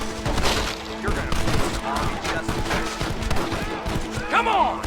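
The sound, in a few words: gunfire in a shootout, from the video game Red Dead Redemption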